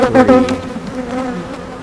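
Honeybees buzz steadily at an open beehive, a close, loud drone with a wavering pitch that swells early and then settles into a continuous hum.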